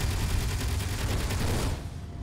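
In a video game, drones fire at the player in a dense, continuous spray of rapid shots that rattles loudly for about two seconds and then drops away abruptly.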